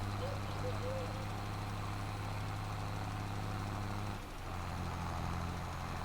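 A tractor engine idles in a farming video game set on the Silverrun Forest map, giving a steady, even mechanical drone throughout with one brief dip near the end.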